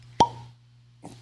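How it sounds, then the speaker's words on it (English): A cork pops out of a bottle of Stranahan's Blue Peak single malt whiskey: one sharp, close plop, then a faint softer rustle about a second later, with no voices. "That's a good cork pop."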